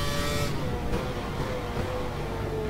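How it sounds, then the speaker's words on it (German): In the F1 2012 racing game, a Formula One car brakes hard and a tyre locks up. A loud engine roar drops off sharply early on, then a thin squealing tone hangs over a steady rumble. "Da blockiert der Reifen."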